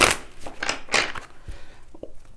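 Tarot cards are shuffled by hand in a series of quick, close riffles and soft slaps, with irregular bursts followed by quieter taps.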